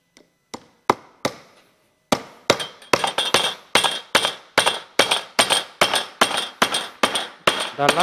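A hammer drives a nail in a series of sharp, ringing blows, a few spaced strikes first and then a steady, faster run of loud, close impacts.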